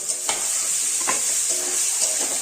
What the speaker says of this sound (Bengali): আলুগুলো দিয়ে আরো কিছুক্ষণ আমি কষিয়ে নেব।